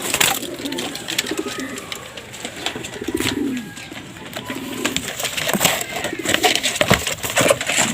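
Pigeons coo in low, repeated throaty bursts close by, several calls overlapping amid soft rustling and occasional sharp taps, with no talk over them.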